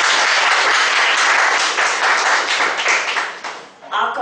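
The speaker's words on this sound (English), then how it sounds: "Applause." Audience applause at a speakers forum meeting, a dense, loud burst of many hands clapping that holds steady for about four seconds before thinning and dipping near the end, with some voices mixed in.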